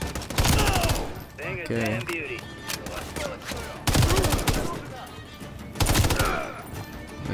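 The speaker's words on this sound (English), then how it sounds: "So we're just gonna go guns blazing now." Bursts of automatic gunfire in the video game Modern Warfare 3, several rapid volleys separated by pauses, loud and close, with a player speaking briefly between them.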